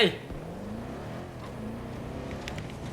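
A vehicle drives in Battlefield 2042, its engine a steady droning hum that is close and moderately loud, running continuously beneath excited chatter from players.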